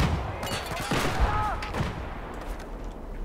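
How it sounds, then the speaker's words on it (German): Gunfire in Battlefield 4 as several players shoot at a single tank: a dense fusillade of shots and booms layered over a loud, busy battle din, with no voices. "Alle schießen auf den einen Panzer."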